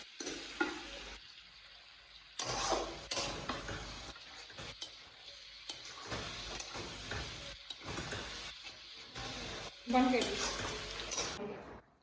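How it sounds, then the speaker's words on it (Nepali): A pan of chicken curry with cabbage being stirred, spoon scraping and clinking in bursts over a low sizzle, with quieter gaps and a louder stretch near the end; faint talk is heard in places. "अब यसलाई मजाले चलाउनु पर्छ"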